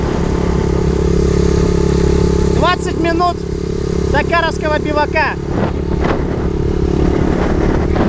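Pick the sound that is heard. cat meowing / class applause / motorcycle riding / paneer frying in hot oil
motorcycle riding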